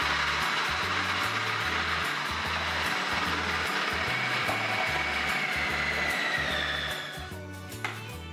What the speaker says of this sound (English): I mainly use my food processor for slicing onion in large amount